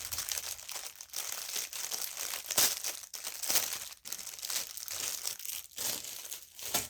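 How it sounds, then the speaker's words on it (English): Cellophane bag crinkling up close, continuous crackly rustling in irregular bursts with sharper snaps, no talking over it. "Sorry about the cellophane noise if that's annoying to you"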